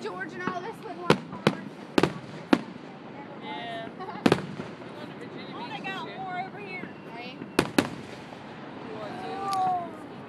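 Fireworks exploding at an early Fourth of July display: several sharp, loud booms arrive at irregular intervals, with people talking and exclaiming between the bursts.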